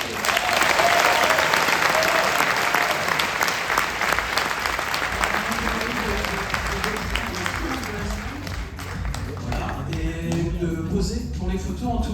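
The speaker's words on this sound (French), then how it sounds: "vous pouvez à nouveau les applaudir et applaudir Jonas Brisé." An audience at the Gérardmer fantastic film festival award ceremony applauds in a loud, sustained wash of clapping that gradually thins out, with a voice speaking over the tail end.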